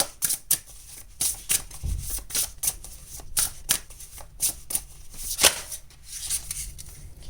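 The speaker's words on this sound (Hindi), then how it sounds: "चलिए आपके लिए हम और कार्ड्स निकालते हैं।" Tarot cards are shuffled and drawn in a series of crisp, rapid riffling and slapping bursts, close and fairly loud, with short pauses between clusters and no talking.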